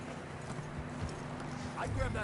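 Video game (Red Dead Redemption 2) horse hooves clip-clop steadily at an easy pace over a low rumble, with people talking over them and a brief whinny near the end.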